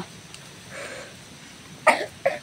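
Two short coughs close by, a sharper one followed by a smaller one, over a quiet background with faint murmuring.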